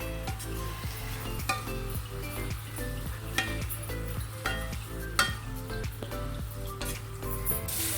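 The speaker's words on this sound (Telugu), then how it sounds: "ఇది సిమ్లోనే ఫ్రై చేసుకోవాలండి కద్దు, లేకపోతే మాడొచ్చేస్తుంది." Bottle gourd fries on low heat in a pan for kaddu kheer, with a continuous sizzle over repeated rhythmic clinks and scrapes of stirring, close and moderately loud.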